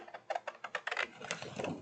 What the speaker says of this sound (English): take my scissors and just cut out my little piece